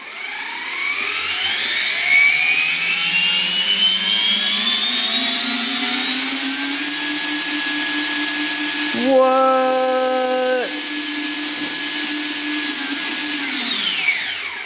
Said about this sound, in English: Shall we power up just where it is and see how much throttle it has?